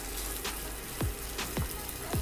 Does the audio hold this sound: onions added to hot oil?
yes